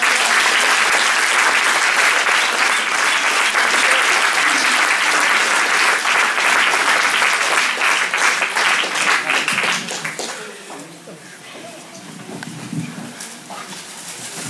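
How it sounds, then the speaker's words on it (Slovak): Audience at an accordion academy concert applauds loudly and steadily for about ten seconds before the clapping fades away to quieter room noise. "potlesk je pre všetkých"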